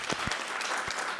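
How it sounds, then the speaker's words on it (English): A crowd at an African leadership media launch event applauds its entertainers, a short, fairly faint burst of scattered clapping with a few low thumps. "Let's give another round of applause to our"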